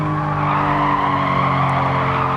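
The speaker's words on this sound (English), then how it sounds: "That's not what caused the drift there, that was me skidding." Tyres of a Porsche 911 Carrera RS (964) skidding in Gran Turismo 7, a loud sustained squeal over the rear-wheel-drive engine's steady drone, continuous for a couple of seconds.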